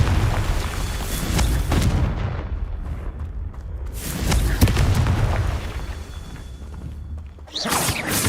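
Booming blasts from the Confringo spell in Hogwarts Legacy, several loud explosive bursts separated by rumbling decay and a whooshing tail, with no talking.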